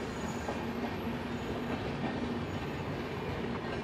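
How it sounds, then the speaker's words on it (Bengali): A Rajdhani Express passenger train, the 12305 Howrah Rajdhani, runs with a steady, continuous rumble of wheels on rails and faint clatter, alone and at an even level throughout. "এটা একদম কাতরা যাচ্ছে ট্রেনটা"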